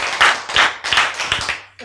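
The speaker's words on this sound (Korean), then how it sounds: "그렇지 이때는 박수하셔야지" A few people clap their hands in a short burst of about five sharp claps, close and loud, during a church sermon.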